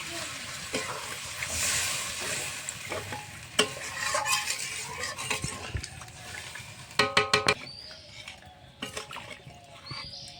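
Spice paste with onion and garlic is stir-fried with potatoes in a pan, making a soft sizzle with a spatula scraping and stirring, plus a few quick metallic clinks near the end.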